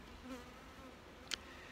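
Honeybees hum faintly and softly in the background, with a brief brighter buzz as one flies close by.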